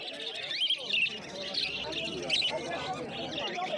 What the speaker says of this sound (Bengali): এই খাঁচাটার মধ্যে দেখতে পাচ্ছেন প্রচুর বদ্রি পাখি রয়েছে, অ্যাডাল সেমি অ্যাডাল সব রকমেরই রয়েছে